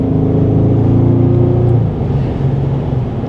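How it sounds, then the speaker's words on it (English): A Bentley Continental GTC convertible's twin-turbo 12-cylinder engine roars steadily while driving, a loud, deep, continuous drone that eases slightly toward the end, with no voices. "a Bentley convertible with a 12-cylinder twin turbo engine for 24 grand?"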